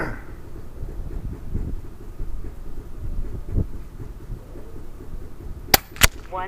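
Two sharp, close cracks from an Umarex Notos .25 caliber PCP air rifle firing 25.4-grain FX pellets, sounding near the end after a stretch of outdoor wind rumble.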